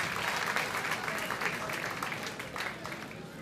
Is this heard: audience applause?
yes